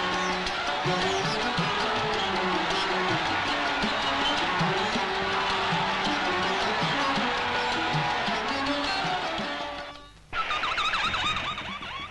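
Dense, loud crowd noise from throngs cheering the 1971 victory motorcade after India's win at the Oval, a continuous wash of voices and shouts that drops away briefly before a fainter, thinner stretch resumes.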